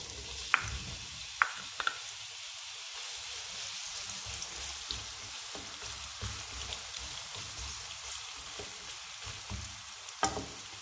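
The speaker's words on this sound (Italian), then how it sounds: "L'olio in padella è già caldo, aggiungiamo la cipolla." Onion pieces frying in hot oil in a pan on the stove, a steady soft sizzle throughout with a few sharp pops and crackles standing out, fairly quiet and with no one talking.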